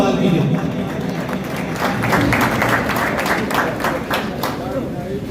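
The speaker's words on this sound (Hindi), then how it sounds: "भरपूर तालियों से उन लोगों का इस्तकबाल कीजिए।" Sustained crowd applause welcoming players at the Jhelum Cricket League Season 5 opening ceremony, steady and dense with an announcer's voice carrying over it.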